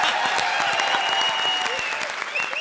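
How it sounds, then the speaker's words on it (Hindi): Studio audience at a televised Hindi comedy show breaks into loud, sustained applause with cheering, a dense clapping wash holding steady throughout. "एक बार यमला पगला दीवाना के लिए जोरदार तालियां हो जाएं।"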